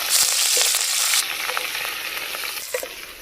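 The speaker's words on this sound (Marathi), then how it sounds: "तेलामध्ये पाट्यावर वाटलेलं वाटण चांगलं परतून घ्यायचं आपल्याला" Stone-ground spice paste frying in about two ladles of oil in a pan for a drumstick curry, a loud hissing sizzle that eases after the first second, with soft scrapes of stirring and no voices.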